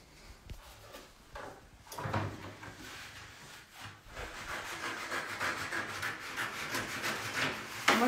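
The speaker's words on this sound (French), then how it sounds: "Moi, je vais découper une forme avec des ronds." Scissors or a blade cut out a paper shape at a photography workshop, making soft, close rubbing and rasping strokes that grow denser and more continuous toward the end.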